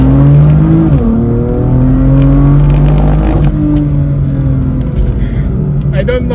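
A BMW M4 F82 accelerates hard, its engine note rising through the gears with loud, close rumbling revs and a shift partway through, as people talk inside the car.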